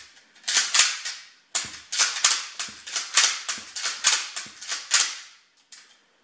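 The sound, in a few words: toy foam dart blaster firing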